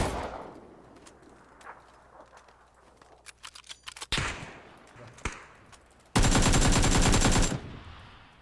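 Automatic rifle fire from a PUBG match on the Erangel map, heard first as scattered distant shots and then a loud, dense full-auto burst of roughly a second near the end.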